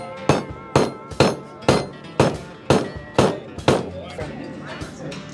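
Hammer blows during a tool installation, around eight sharp, evenly spaced strikes with ringing tails, loud and close, with no speech over them.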